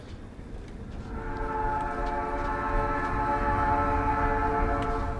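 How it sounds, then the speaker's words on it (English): A train rolls past with a sustained horn blast in the video game Night in the Woods, the steady horn tones swelling from about one second and holding loud to the end over a low rumble. "I didn't realize how much I missed the sound of that train."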